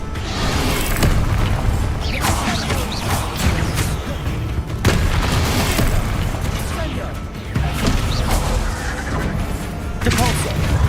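Bombarda spell in Hogwarts Legacy amid a magic battle: repeated booming blasts and crashing impacts over continuous combat noise, loud and close, with a voice shouting spell names.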